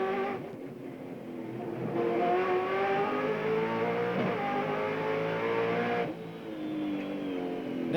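1996 V8 Australian Touring Cars, Holden Commodore and Ford Falcon, racing on the tight Wellington street circuit, engines roaring loudly and steadily as the cars pass, with a brief dip and then a rise again near the end.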